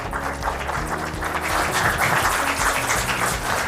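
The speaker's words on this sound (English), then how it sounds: "A round of applause for the gentleman." An audience applauds steadily after a speaker at a talk on intra-African versus global trade, the clapping dense and sustained over a low musical hum throughout.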